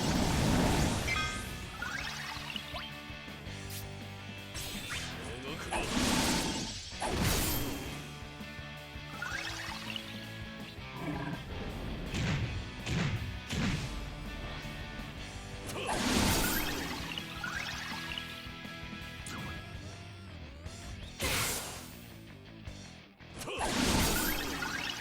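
Fire spell from Alisaie's kit in Final Fantasy XIV, a string of loud magical impacts and crashes with swishing bursts over a dense game soundtrack, several strong hits spaced through the stretch.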